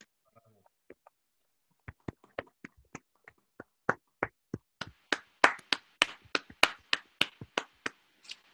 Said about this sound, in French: Et d'applaudir cette présentation.